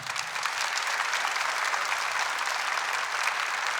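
Sustained applause from a church congregation at a Catholic priest's talk, a dense, even wash of many hands clapping throughout, fairly distant and steady with no voices standing out.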